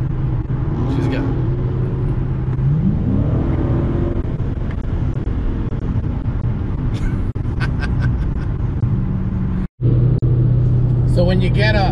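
An early Mopar SRT with a 6.1-liter engine and an exhaust delete, cruising on a highway, gives a loud, steady low rumble throughout while people talk over it inside the car.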